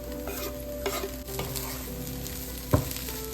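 A spoon stirs prawn chop filling with chopped coriander in a pan over a soft background sizzle. Repeated scraping strokes end with a sharp knock near the end.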